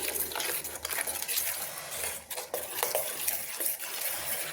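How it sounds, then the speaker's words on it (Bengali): A spoon stirs a yogurt spice mixture for steamed chang fish, giving soft, close, wet scraping and clinking against a bowl, fairly quiet and continuous without any voices. "দিয়ে আমি একটা চামচ দিয়ে গুলিয়ে নিচ্ছি।"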